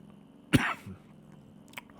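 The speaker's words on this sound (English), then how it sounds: "Sorry for the cough there." A single close cough, one sharp rough burst followed by a short throaty tail, then a faint small click, otherwise near-quiet room tone.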